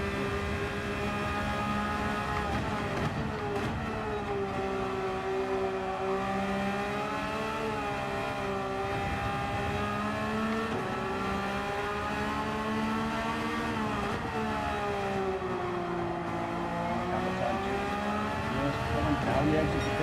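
A Porsche race car in a sim racing game rounds the final chicane and rolls into pit lane, its engine a steady harmonic drone rising and falling with throttle, continuous and loud under a commentator's voice.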